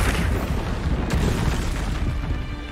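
The Confringo explosion spell in the video game Hogwarts Legacy, a loud sustained blast with a dense roaring boom that fills the whole stretch and carries one sharp crack partway through.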